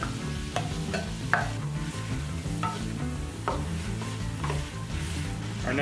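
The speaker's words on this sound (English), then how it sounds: "Now we're going to add our onion." Chopped onion frying with sausage and bacon drippings in a pot crackles with a steady sizzle, broken by several short scraping stirs of a utensil, close and moderately quiet, with no voices.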